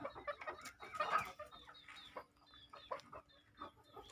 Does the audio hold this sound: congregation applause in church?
no